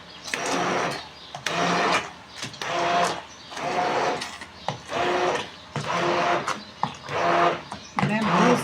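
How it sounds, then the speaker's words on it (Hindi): A kitchen grinder blends spinach for palak gosht in repeated pulses, each burst of whirring motor noise stopping briefly before the next, about eight rough pulses close and fairly loud. "अब हम ना पालक ग्राइंड करेंगे।"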